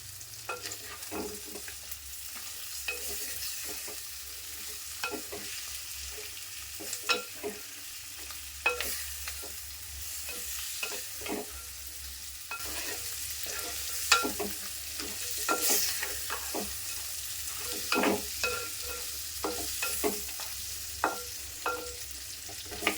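Curry leaves sizzle in hot oil and are stirred through a Rayalaseema-style country chicken curry, with a steady low frying hiss and frequent scraping clicks of a spoon in the pan, close and without talk.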